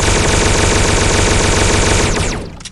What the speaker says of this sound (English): So this is the fire rate, normally. This is how fast the rifle is.